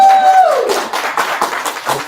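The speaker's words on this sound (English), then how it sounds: "let's give her a round of applause" An audience at a veterans' wealth-strategies event gives a round of applause, with scattered clapping after a short sustained tone, a voice speaking over part of it.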